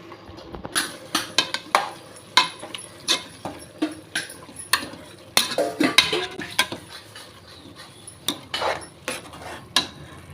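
Yogurt poured into a pan for mutton biryani, then stirred with a metal spoon, giving a series of sharp clinks and scrapes against the pan in an irregular rhythm, close and fairly loud with no talking.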